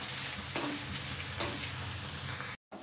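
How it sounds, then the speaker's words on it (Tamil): Lentils, dried red chillies and fenugreek dry-roasting in a pan, a faint steady rustling hiss with two sharp scraping stirs or clicks, quiet and close, with a brief dropout near the end. "எல்லாத்தையும் வந்து நம்ம நல்லா வறுத்துக்கலாம்"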